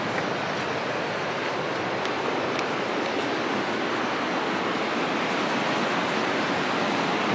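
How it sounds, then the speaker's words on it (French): A river in the village of Kyzyl-oi, Kyrgyzstan, rushes past with a strong current, giving a loud, steady wash of turbulent water heard up close and with no voices. "Et la rivière est splendide. Il y a du courant."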